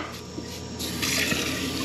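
Water rushes steadily through a camper's city water inlet into the freshwater plumbing at a full hookup site, a close, continuous hiss that swells louder partway through.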